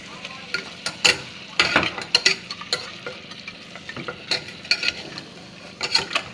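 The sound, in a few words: stirring mutton with masala, turmeric and salt in pan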